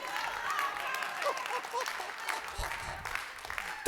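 A church congregation claps and cheers during a sermon, moderate crowd clapping mixed with voices and shouting, fairly close and continuous, ending in a loud burst.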